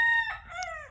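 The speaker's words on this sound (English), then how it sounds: "all right, Mr. Rooster" A rooster crows once in a Florida food forest, a loud, close cock-a-doodle-doo with a rising then falling call lasting under a second, heard alone.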